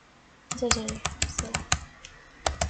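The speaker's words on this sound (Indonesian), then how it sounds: "Kemudian kita ketikkan interface G0/0" Computer keyboard keys tapped to enter a network interface configuration command, a burst of close, crisp clicks in irregular groups with short pauses between.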